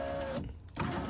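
Car electric window regulator on a Ford motoring the glass, a whirring motor run that cuts off with a brief thump, pauses, then starts again, close and clear.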